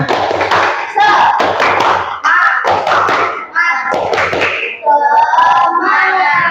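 Schoolchildren in a fifth-grade class do a rhythmic 'tepuk semangat' spirit clap, sharp hand claps and thumps in patterned bursts, close and loud, mixed with children chanting along between the beats.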